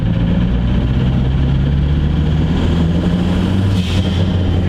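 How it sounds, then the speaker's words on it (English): A Renault 5 fitted with a Dimma body kit drives along a private road, its engine a loud, steady low rumble that holds from start to finish. "It's a Renault. Got a Dimma kit on it. It's driving."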